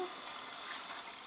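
Water runs steadily from a tap or is poured into a cooking pot on a stovetop with red wine already added, a continuous splashing hiss at moderate volume with no talk over it.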